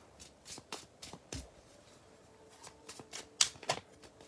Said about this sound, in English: we'll see who is up next for a card pull